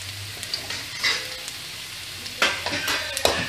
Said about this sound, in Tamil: நல்லா கலர் சேஞ்ச் ஆகிற வரைக்கும் கொஞ்சம் ஃப்ரை பண்ணோம்னா சரி